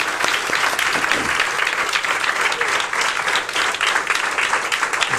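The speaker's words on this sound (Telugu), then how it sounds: "Clap for Jesus." A church congregation applauds loudly and steadily for Jesus at a worship service, a dense crowd clapping that fills the space for several seconds.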